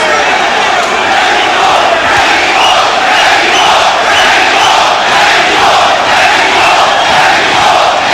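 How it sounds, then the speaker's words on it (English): Packed boxing arena crowd chanting and cheering for Erik Morales, a loud continuous roar of massed voices with a rhythmic chant rising and falling throughout. "Every element of crowd noise you hear, the chants, the cheers, the spontaneous eruptions, will all be for El Terrible Erik Morales."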